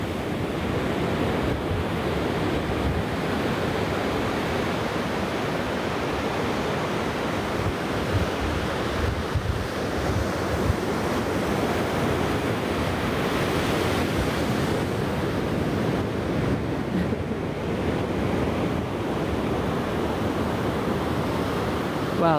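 Ocean surf rolling in at Mission Beach, San Diego, a steady broadband wash of breaking waves with some wind noise, continuous and fairly loud with no talking.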